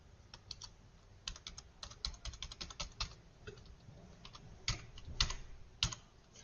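Rapid, uneven keystrokes on a computer keyboard enter an Aadhaar number, with close, crisp taps arriving in bursts and brief pauses between them.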